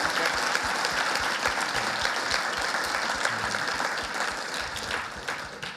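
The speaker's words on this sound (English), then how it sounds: "let's give them a round of applause. They really deserve it." A sustained round of applause from a conference audience at an event on achieving the SDGs, dense and even clapping that holds steady and tapers slightly near the end.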